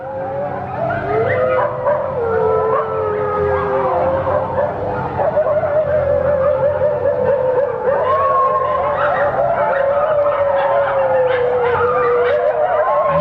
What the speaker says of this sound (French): les chiens sont vraiment affolés.